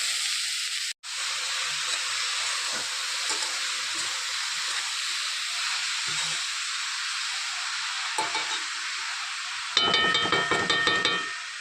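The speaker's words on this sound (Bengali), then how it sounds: "ঘিটা গরম হয়ে গিয়েছে, দিয়ে দেবো গাজরগুলো।" Grated carrots sizzle in hot ghee for gajar halwa, a steady, fairly quiet frying hiss with a short stirring clatter near the end.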